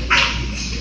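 A dog at a weight-pulling contest gives a single short, sharp bark over steady crowd and arena background noise.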